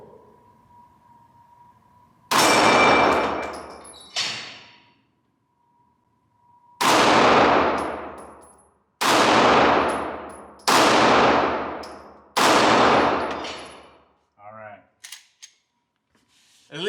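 FN 509 9mm pistol fired at an outdoor range: five loud, sharp shots with long ringing decays, spaced a second or two apart, followed by faint metallic clinks.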